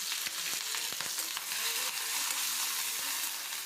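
Green chillies and curry leaves sizzle hard in hot tempering oil, a dense, bright crackle with sharp pops spattering through it at close range.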